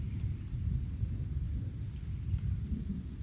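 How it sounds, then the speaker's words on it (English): Thunder from an approaching lightning storm rolls in as a deep, continuous rumble mixed with steady rainfall, fairly loud and sustained with no voices. "the lightning is getting a little closer"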